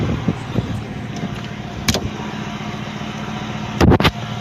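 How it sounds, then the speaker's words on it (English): A running engine from a 1999 car hums steadily at idle, with a few light clicks and thumps toward the end and no voices. "It sounds like an engine running."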